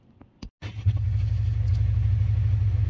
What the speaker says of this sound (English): to warm the engine